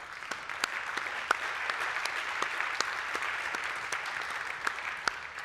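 Steady audience applause at a tech conference session, a fairly distant wash of many hands with scattered sharper claps, holding an even level throughout.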